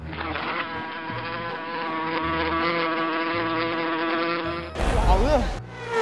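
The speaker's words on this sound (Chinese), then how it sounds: "我不知道为什么头上有苍蝇" A housefly buzzes close around someone's head at a busy shrimp-fishing venue restaurant in Changxing, a sustained whining drone that wavers in pitch as it circles, then swells into a louder, closer burst near the end.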